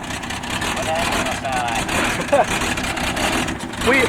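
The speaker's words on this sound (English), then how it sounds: "We paused for a minute here to listen to a engine." A car engine idles with a steady low rumble; brief voices and chirpy sounds break in now and then over the engine.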